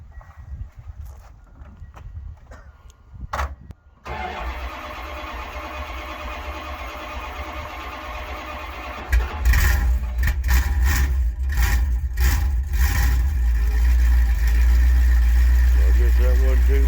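A Mopar car engine cranks, catches and settles into a loud, steady idle, the cold start rumbling up in a roar before holding an even drone close by, with a voice talking briefly before it fires.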